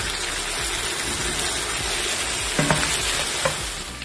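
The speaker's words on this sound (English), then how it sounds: "I'm just going to add some green chilies, and I'm going to toss it around a bit." Green chilies are tossed in hot oil with meat for arvi gosht, giving a loud, steady sizzle and frying hiss throughout, with a few clinks of a spoon against the pan near the end.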